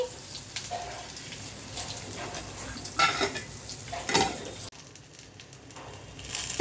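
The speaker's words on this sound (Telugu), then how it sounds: "పల్లీలు పచ్చిమిర్చి అయితే వీటిని ఫ్రై చేసుకుంటున్నానండి" Peanuts and green chilies fry in a pan for tomato chutney, a steady crackling sizzle with scraping stir strokes, louder bursts near the middle, no talking.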